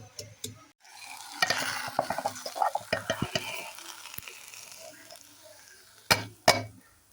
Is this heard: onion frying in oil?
yes